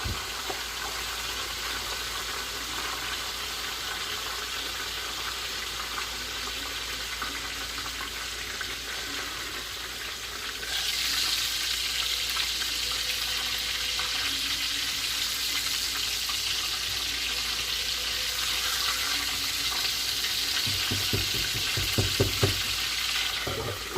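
Food for a chicken sandwich fries in hot oil in a home kitchen with a constant crackling sizzle that grows louder and brighter partway through, plus faint stirring and clinks near the end.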